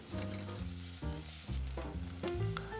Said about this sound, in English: And we'll saute this onion until it's translucent.